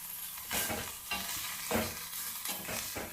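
Onions with salt sizzle steadily in a pan while a spatula stirs them in repeated scraping strokes, close and continuous with no talk.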